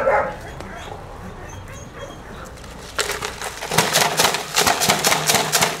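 A small dog barks and yips in quick, close bursts that start partway through, after a quieter stretch with faint whimpering and background noise. Someone speaks in the scene.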